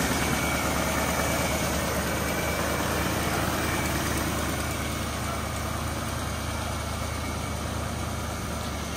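Engine of a 1973 Chevrolet Nova four-door, idling steadily after 32 years parked, a constant close low rumble with no talking over it.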